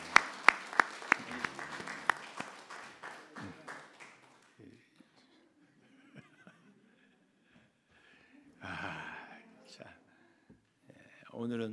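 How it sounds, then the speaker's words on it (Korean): A small church congregation at a Sunday worship service claps briefly in a burst of distinct hand claps that quickly fades, followed by quiet murmuring and soft voices. "여러분 박수해 주세요"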